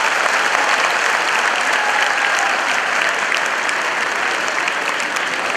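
Loud, dense applause from a large audience at a student parliament event in Nagpur, sustained and steady throughout without a break.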